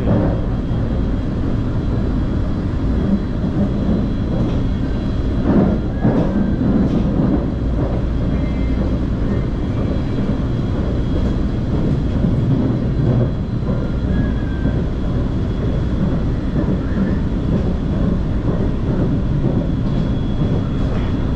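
Kuala Lumpur monorail train running between Bukit Bintang and Bandar Tasik Selatan, a steady low rumble and rolling drone that holds for the whole stretch, fairly loud and continuous with no talk over it.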